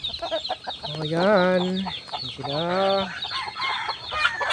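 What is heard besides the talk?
red junglefowl (labuyo) and chickens clucking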